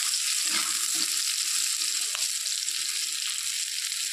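Potatoes and teasel gourd frying in a pan, a steady close hiss of oil with a few soft stirring scrapes, continuous and fairly loud with no talking.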